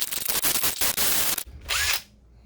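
Power drill boring into a motorcycle handguard for an Electric Motion Escape, loud and close, whirring in stuttering bursts with a brief stop and a final spin before it winds down.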